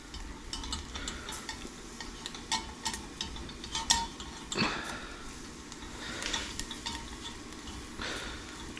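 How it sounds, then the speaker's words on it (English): A bordelaise sauce being stirred in a pan, with soft scraping and clinking of a utensil against the metal over a faint steady sizzle, close and continuous. "Stir it around."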